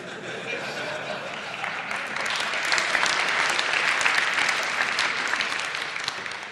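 An audience at a conference talk claps in dense, continuous applause that swells slightly midway and keeps going to the end.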